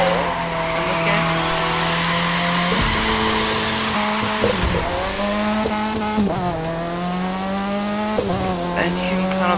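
A car in The Crew 2 video game revs hard under a sustained engine drone with gear-shift dips, while its tires slide and squeal in a long drift; a voice talks over it.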